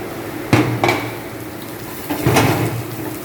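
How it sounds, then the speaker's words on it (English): Carrots are tipped into a pan already holding celery and onion, giving two or three close clatters and knocks of food and utensil against metal over a low kitchen hum. "we now are going to add in the carrots"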